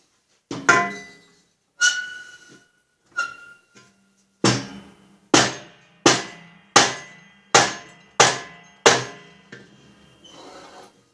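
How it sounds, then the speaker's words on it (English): A hammer pounds on a mower spindle during a Snapper RER rider rebuild, giving about ten sharp, close, ringing metallic blows. They come irregularly at first and then land at a steady, even rhythm, with no talk. "I just pound on it."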